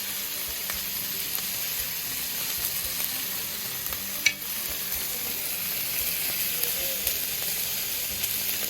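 Miso-glazed salmon fillet sizzling steadily in a hot pan, a dense, even hiss of frying held at constant loudness from start to finish, with one brief clink of a utensil partway through, close and with no voices.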